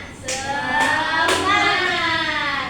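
Children in a classroom perform the 'tepuk semangat' spirit clap, sharp hand claps landing in a quick pattern amid voices and a chant, close and fairly loud over room noise.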